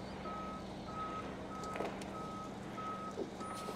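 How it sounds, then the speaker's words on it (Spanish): A 2008 passenger bus with a Detroit Series 60 engine reverses, its backup alarm sounding six evenly spaced beeps over a low, steady diesel idle, moderately distant and fairly quiet, with no talk. "Como pueden notar, se está echando de reversa."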